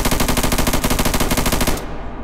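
Rifle firing on full auto: a fast, steady run of close, loud shots that stops abruptly as the magazine empties, leaving a brief echoing tail.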